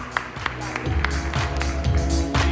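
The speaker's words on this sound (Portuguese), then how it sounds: "salve de palmas a Luciede" A conference audience claps to welcome a speaker onto the stage at a customer-experience summit, with dense, steady applause close by and a low rhythmic music bed underneath.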